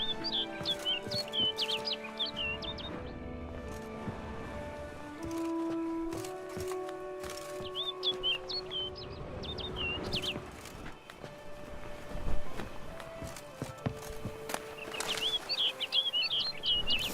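In The Witcher 3, a bird gives bright, short chirps in three separate bursts over sustained game music and soft rustling.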